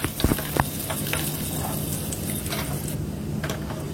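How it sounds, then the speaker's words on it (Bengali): Cumin, garlic and onion fry in hot oil for a dal tempering, a continuous close crackling sizzle with a few sharp clinks and stirring scrapes early on, then a steady hiss. "এই তো জিরা দিয়ে দিলাম রসুন, পেঁয়াজ দিয়ে ভালো করে একটু ভেজে নিচ্ছি কিছুক্ষণ"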